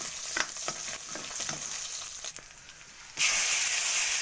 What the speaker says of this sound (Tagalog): Gigisa muna yung karne hanggang sa mag-brown.